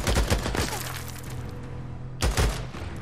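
Gunfire from a firearm in Days Gone, a dense burst of close, loud shots with sharp cracks, then a lull of low rumble before a second short volley near the end.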